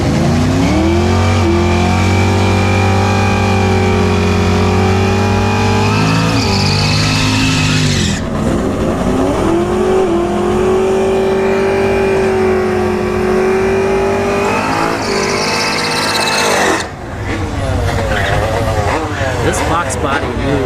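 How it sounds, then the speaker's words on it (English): A nitrous-fed orange and black Foxbody Mustang and a Tesla Plaid line up for a drag race. Loud, close engine revving swells and drops in long pulls, with a voice talking over the roar. "we got a race lined up with this orange and black Foxbody Mustang"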